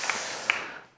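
Congregation clapping in a church service, a brief burst of applause with a couple of sharper claps standing out, fading away within about a second.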